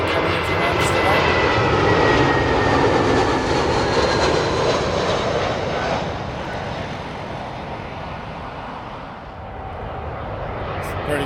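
An Airbus A320 jet landing at Heathrow from Amsterdam, its loud, close engine roar sustained and broadband, easing slightly as it passes.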